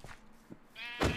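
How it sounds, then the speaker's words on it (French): A sheep in the Minecraft video game bleats a short, clear burst near the end, preceded by faint game noises. "Attends, mais avec quoi je tue les moutons?"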